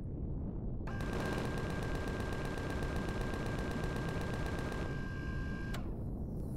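Rapid, evenly spaced gunfire from a weapon in the Empyrion Galactic Survival video game, a steady burst lasting about four seconds, then one final shot, fairly faint against a constant background hum.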